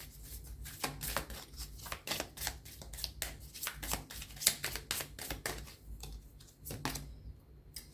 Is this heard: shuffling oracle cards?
yes